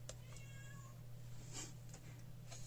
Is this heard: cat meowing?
yes